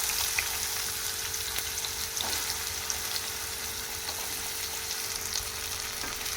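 Spine gourd pieces frying in about three tablespoons of oil, a continuous close hiss and sizzle with a faint steady hum underneath and occasional soft stirring touches.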